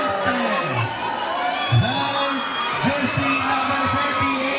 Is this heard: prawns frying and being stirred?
no